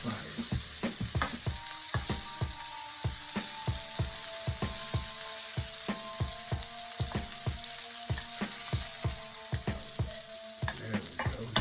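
Jumbo shrimp sizzle and fry in a hot pan with steady broadband crackle, punctuated by a regular series of sharp clinks and scrapes as they are stirred and turned, close and continuous with no talk.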